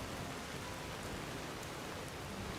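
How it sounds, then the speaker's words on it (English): Steady, dense rain hiss falls continuously in Skyrim, a modded Elder Scrolls V fantasy game, with no voices and no thunder, an even wash of drops throughout. "It's already raining"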